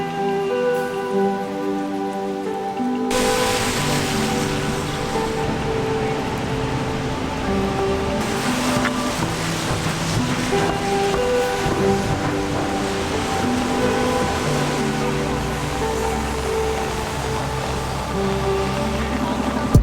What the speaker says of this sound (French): Il pleut, il y a plein de vent